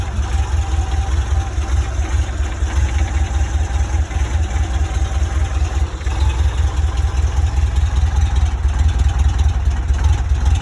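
A 1973 VW T2b Westfalia camper van's engine idles with a steady, close, low throbbing rumble that holds even throughout, with no talking.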